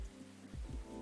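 Steady rain falling in the Coffee Talk video game, a dense continuous hiss of drops on a surface heard close with a soft low rumble underneath, unbroken for the whole second.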